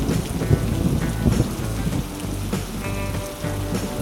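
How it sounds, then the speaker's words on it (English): Heavy rain pours down during a storm, a dense, constant hiss broken by low rolling rumbles of thunder, with no other sound present. "here it's been raining for about the last week straight"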